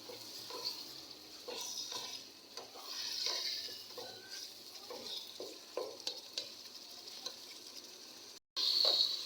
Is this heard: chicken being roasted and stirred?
yes